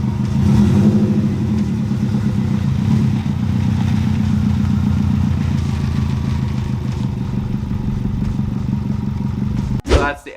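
2002 Subaru WRX engine running after sitting a long time, a close steady mid-pitched burble with a rev swell early on, ending in a sharp clatter.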